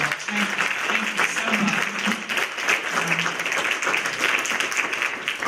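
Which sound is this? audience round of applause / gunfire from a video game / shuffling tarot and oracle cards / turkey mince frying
audience round of applause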